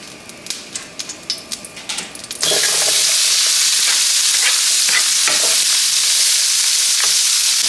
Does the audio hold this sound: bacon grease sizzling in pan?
yes